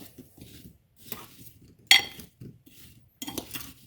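Apple slices are tossed with sweetener in a bowl for an apple pie, making intermittent clinks and scrapes of a utensil against the dish in short bursts separated by quiet gaps.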